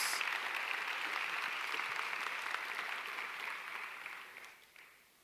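Church congregation applauding together during a worship service, a steady wash of clapping that holds for several seconds and then tapers off toward the end.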